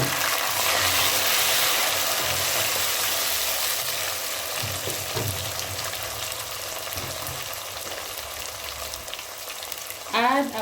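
Onion that has turned golden brown, now joined by tomatoes, sizzles and fries steadily in a pan, a dense continuous hiss with occasional stirring scrapes and a brief clatter near the end.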